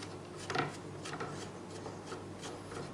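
Metal bolts being unscrewed from a takedown recurve bow on a table, heard as close, soft rasping and rubbing scrapes in a few short bursts with no talk.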